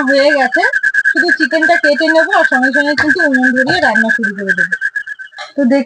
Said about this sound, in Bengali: দেখুন ঝিঝি পোকাগুলো ডাকছে কিভাবে।